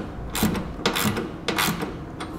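Socket wrench on a 9/16 socket driving self-tapping screws during an air helper spring install, heard as three or four short bursts of rapid ratcheting clicks at close range.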